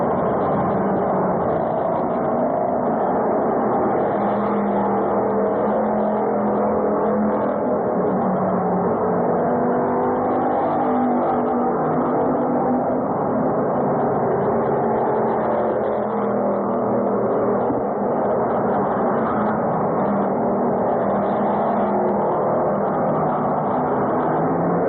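Race cars roar in a continuous loud engine drone during a 150-lap enduro at Orange County Fair Speedway, the pack heard from a distance with overlapping revving that rises and falls but never stops.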